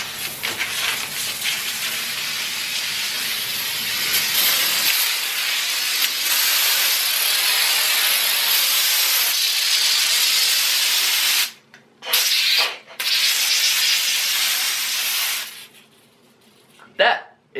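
Silly string sprays from an aerosol can in a long, loud, steady hiss lasting many seconds, broken by a few short pauses near the end before it tapers off.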